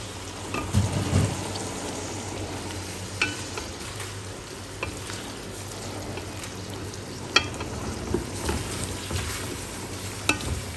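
Shredded beef for haleem fries steadily in a pan, a continuous close sizzle with occasional stirring clatters and scrapes, no voices.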